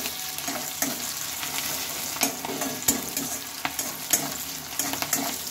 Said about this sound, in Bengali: দেখো, পেঁয়াজগুলো ভেজে নিচ্ছি।